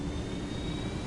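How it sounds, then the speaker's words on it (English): A steady, continuous engine drone from a helicopter piloted in the video game Ghost Recon Wildlands, heard as an unbroken roar with no talking over it. "I know I'm piloting right now in a helicopter"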